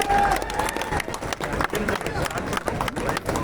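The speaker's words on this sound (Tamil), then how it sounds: "நல்ல ஒரு பலமான கைத்தட்டலோட வெல்கம் பண்ணிடலாம்." An audience claps loudly and steadily to welcome the Junior Kuppanna team at a public gathering. The applause is dense and continuous throughout, mixed with crowd murmur and voices.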